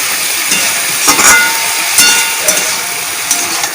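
Kolmi greens sauté in a hot pan with a loud, steady hiss and sizzle, broken by a few sharper crackles and spatters, close up and with no voices.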